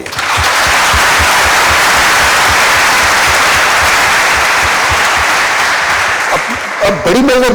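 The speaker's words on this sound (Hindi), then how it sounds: "जोर से ताली बजाइए इनके लिए।" Large audience at an orientation event applauding loudly and steadily for several seconds, dense sustained clapping that fades near the end as a voice starts speaking.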